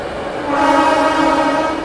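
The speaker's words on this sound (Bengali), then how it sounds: "ওই পাশ থেকে কোনো একটা সুপারফাস্ট ট্রেন ওভারটেক করে যাচ্ছে" Superfast train overtaking on the neighbouring track: a loud, sustained rumble and horn-like tonal drone that swells after a quiet start and holds steady, close by on a station platform with no talk.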